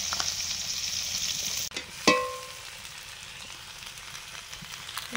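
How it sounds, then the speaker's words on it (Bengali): Small khoira fish frying in oil in a kadai give a steady bright sizzle that breaks off abruptly, then a sharp metallic clink rings out before a softer, lingering crackle continues; no one speaks. "সব মাছগুলো ভাজা হয়ে গেল, সব তুলে নিচ্ছি কড়া থেকে।"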